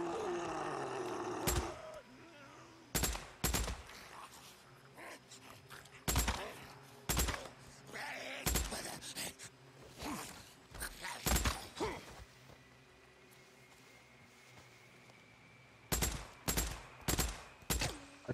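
Sharp gunshots from newly acquired firearms in the survival game Days Gone, fired in irregular bursts and single loud cracks, with quieter stretches between shots and a faint background hum.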